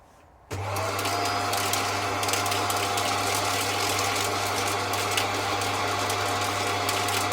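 A Shark vacuum cleaner's motor switches on after a brief quiet moment, then runs at a steady, loud, constant drone with a low hum and broadband whine, close by and uninterrupted.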